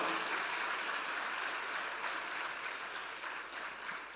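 A rally audience claps loudly in a dense, continuous roar of hands that holds steady and fades slightly toward the end, with no voices clearly above it.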